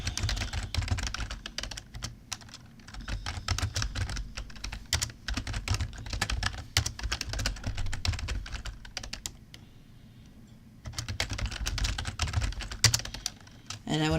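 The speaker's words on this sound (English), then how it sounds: "So what I'll do is I'll type all of that back in there." Rapid typing on a computer keyboard, with dense clicking keystrokes in bursts, a short pause near the middle, then more typing, close and fairly clear.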